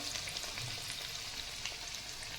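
Thick elephant foot yam fritters deep-fry in hot oil, giving a soft, steady sizzle with scattered small pops and crackles, quiet and close, with no voices.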